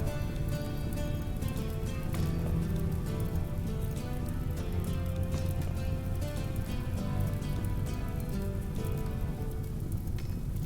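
Rain falling in a survival video game, a steady, dense patter of drops on surfaces that stays loud and even throughout, with no voices.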